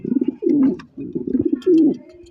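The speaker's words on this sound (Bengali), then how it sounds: "দেখেন নটটা কিভাবে ডাকতেছে" Racing pigeons, a large-size pair with a black hen, coo in repeated throaty bursts, close and loud, each call swelling and pausing in an uneven rhythm with no talk.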